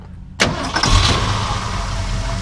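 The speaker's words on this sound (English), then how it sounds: "So we'll go ahead and fire it up." A 1968 Ford Highboy F250 4x4 with dual exhaust cranks briefly and catches, then settles into a loud, steady idle close by. Its rumble continues to the end with no talk.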